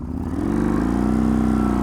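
A Yamaha MT-01 1700cc V-twin motorcycle pulls hard from a standstill toward 60, its loud, close engine note climbing in pitch as it accelerates, with no voices.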